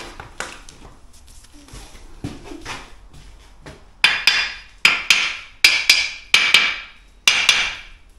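Hammer tapping on a steel goalpost packed solid with epoxy and slate, first a few soft knocks, then six sharp, loud, ringing strikes at a steady spaced rhythm, close up.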